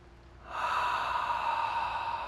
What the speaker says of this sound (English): Fill up the upper chest and exhale down through the abdomen.